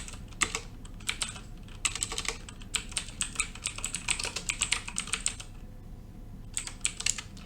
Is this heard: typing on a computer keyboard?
yes